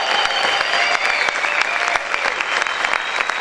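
A church congregation claps loudly and energetically in praise, dense clapping with sharp individual claps standing out, filling the room steadily with no speech over it.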